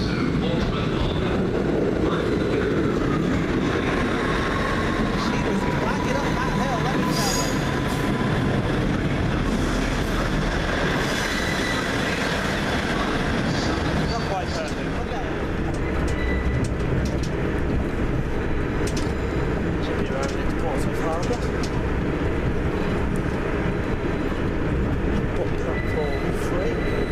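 South West Trains unit 159009, the 08:54 service to Portsmouth Harbour, rumbles along under way with a steady engine drone and rolling wheel noise from on board, continuous throughout, with passengers' voices faintly in the background.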